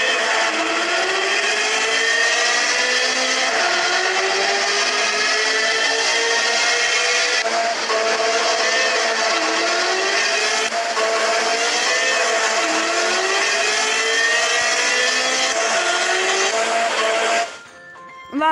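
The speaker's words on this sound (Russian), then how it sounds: "Послушайте звук этой машины, как она катается." A car driving in a Minecraft car mod gives off a continuous synthetic engine drone with repeating rises and falls in pitch, loud and steady for about seventeen seconds before cutting off abruptly.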